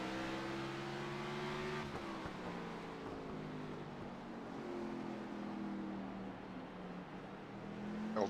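Several race cars roar around Martinsville Speedway during an Xfinity Series race, loud steady engine drone with rising and falling pitch as cars pass and fight through the corner.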